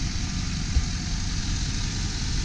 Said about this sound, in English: motor does not appear to be running rough. Nice and smooth.